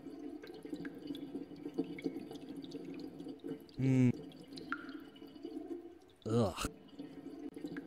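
Urinal water dispenser dripping in a point-and-click game, two distinct bubbling drip sounds a few seconds apart over a faint ambient hum, with a brief groan from a person.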